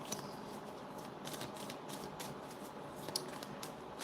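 Tarot cards being shuffled by hand, soft papery riffles and light slaps repeating at an uneven pace, quiet and close with no talking.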